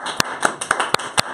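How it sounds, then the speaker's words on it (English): People in a studio clap and applaud, with a quick run of about six crisp, close claps in an irregular rhythm. "I love that you're clapping for yourself."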